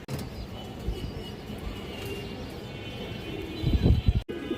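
A pigeon gives soft, low cooing close by, a brief coo that swells toward the end amid light background noise.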